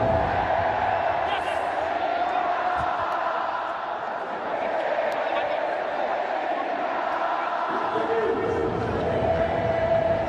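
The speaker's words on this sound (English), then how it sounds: "you may well be able to hear the singing of this very, very faithful crowd" Faithful cricket crowd at an India match singing and chanting in the distance, a sustained murmuring swell running beneath talk throughout.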